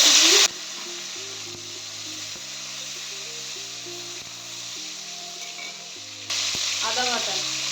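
Bay leaf, whole cumin and chopped tomato fry in hot oil for a Bengali cauliflower kalia, a loud steady sizzle with a sharp burst at the start and a flare-up near the end, running alone with no talk.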